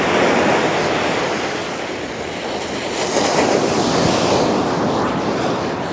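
Ocean waves surge onto a beach in a loud, continuous broadband roar that swells and eases slightly, heard up close with no talking.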